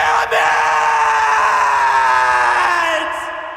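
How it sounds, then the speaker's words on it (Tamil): An anime character from One Punch Man lets out a loud, sustained scream that holds a strained pitch for about three seconds before it slowly fades. "பயங்கரமா அலறுவான்."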